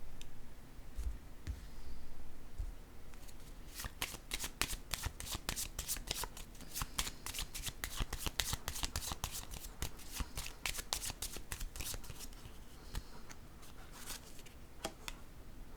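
Tarot cards being shuffled and handled in a rapid run of crisp riffling clicks and flicks, close and fairly soft, with a few scattered taps at the start and end and no talk over it.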